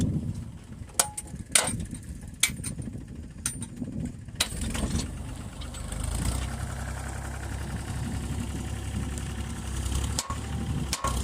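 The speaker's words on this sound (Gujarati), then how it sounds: "હજી એક ટ્રેક્ટર આવે છે." A tractor engine idles and rumbles at mid distance on a farm, with sharp clicks and knocks early on and the engine growing steadier and louder toward the end.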